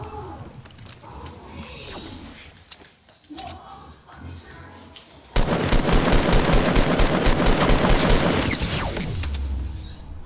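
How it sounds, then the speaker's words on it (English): Sustained rapid automatic gunfire in Fortnite, players shooting down a built base, a loud dense burst that kicks in midway and rattles on after quieter game sounds and faint voice chatter. "They're shooting down my base."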